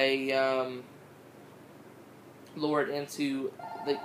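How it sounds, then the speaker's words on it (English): A telephone rings twice at close range, each a short bright trilling burst, with a quiet pause between rings. "I'm sorry, the phone's ringing."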